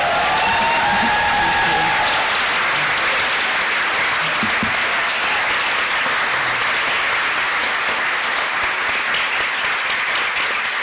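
An audience at the close of a discussion on the mother wound breaks into sustained, loud applause, a dense roar of clapping that holds for the whole stretch, with a few voices faintly mixed in at the start.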